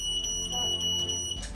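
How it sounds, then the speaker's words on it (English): A newly installed smoke alarm sounds during a test, giving a steady, piercing high-pitched tone that holds for about a second and a half, fairly quiet against a low background hum. "this working smoke alarm gets the family out"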